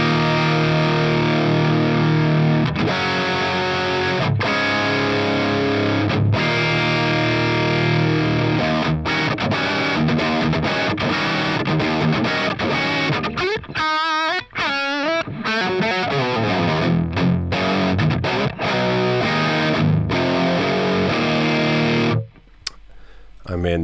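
A distorted electric guitar through a Line 6 Helix cab sim with a Shure 7B microphone, thick riffing chords played loudly and continuously with brief rhythmic breaks, ending abruptly.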